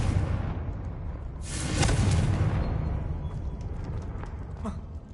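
A Confringo spell blast in Hogwarts Legacy goes off as a broad booming burst about midway, followed by crackling debris and fading rumble over steady game ambience.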